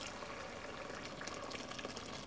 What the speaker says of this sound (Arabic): رح أغمره بلتر ونص من المي المغلية